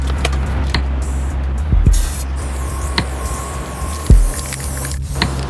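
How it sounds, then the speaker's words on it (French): Aerosol spray paint cans hiss steadily while a street mural is painted outdoors in Paris, a continuous close spray broken by a few short bursts and clicks. "Tout le travail était effectué à la bombe"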